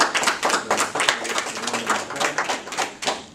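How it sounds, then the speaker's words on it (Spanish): An audience at a university mathematics colloquium applauds, a lively patter of many hands clapping in a fairly close room, steady for a few seconds without speech. "Aplaudamos primero"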